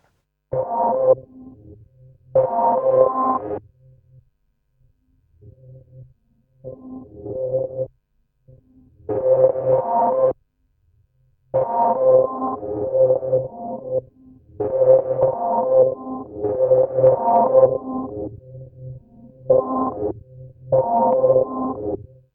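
A synth tone in Logic Pro, its filter cutoff modulated by a random square-wave LFO every quarter note, jumps between blocky settings in choppy bursts separated by short silences, its brightness changing abruptly from one chunk to the next.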